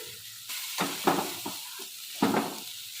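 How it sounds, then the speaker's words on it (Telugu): Capsicum, red capsicum and carrot fry in a pan, giving a close, soft sizzle broken by several louder bursts as the vegetables are stirred and tossed, with no voices over it. "క్యాప్సికమ్, రెడ్ క్యాప్సికమ్, క్యారెట్ వేసుకొని ఫ్రై చేయాలి"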